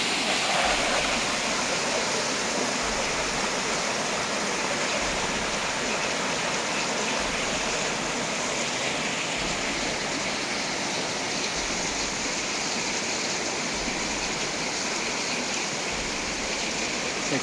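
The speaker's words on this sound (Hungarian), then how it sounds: "Akkor az elmaradhatatlan vízesés." Waterfall on the Sagittario river roars as a loud, steady, dense wash of falling water that fills the whole stretch, with no break in its rushing.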